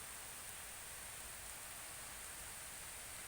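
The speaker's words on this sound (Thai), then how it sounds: "ฝนตกลินนะนี่ ฝนกำลังตก" Steady rain falling in a forest, a soft, even hiss of drops with no breaks or individual splashes standing out, fairly faint and continuous throughout.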